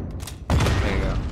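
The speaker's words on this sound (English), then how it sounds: "He got that grenade stuck on me." Grenade blast in Call of Duty: Modern Warfare at the embassy, a sudden loud boom after a brief lull, followed by a long rumbling, crackling tail of debris and ongoing combat noise.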